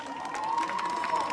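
Audience at a fado performance applauding a singer, a brief burst of crowd clapping mixed with cheering and a sustained shout, lively and steady throughout.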